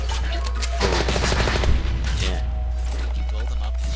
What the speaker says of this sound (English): now let's show off Tycho's brand new move, the gas gun